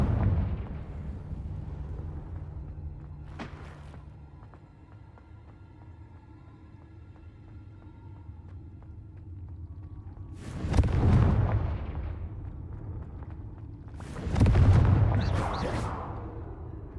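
Confringo blasting-spell explosions in a Harry Potter video game: two deep, booming blasts a few seconds apart over a low, quiet background, with a smaller pop earlier.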